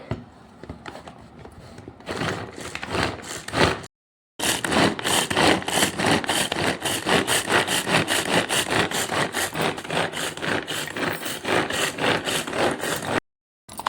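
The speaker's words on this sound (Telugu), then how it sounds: "ఇలా వెజిటబుల్ కట్టర్లో ఇలా చిన్నగా కట్ అయిపోయాయండి" Loud, rapid rhythmic chopping and grinding from a hand-pulled vegetable chopper cutting onions, steady repeated strokes with two brief pauses, no voices.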